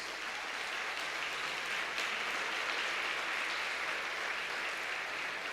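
Steady applause from a church congregation fills a worship service, a dense, even wash of clapping that holds at a moderate level throughout with no voices standing out.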